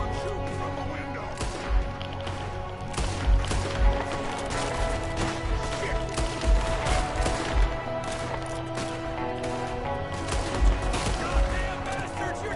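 Video game shootout with repeated gunshots cracking irregularly over a busy background of music and ambience, some shots louder and nearer than others.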